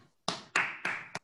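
Four sharp hand claps in quick succession, close and loud, each with a short ringing tail, applauding children.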